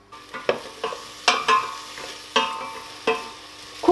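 Onion frying in coconut oil in a pan, with repeated stirring strokes producing sharp scraping bursts over a steady soft sizzle, close and moderately loud with no talking.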